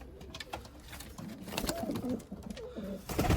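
Hünkari pigeon squabs coo softly in a loft, low throaty calls repeating at close range over faint background rustling, quiet throughout.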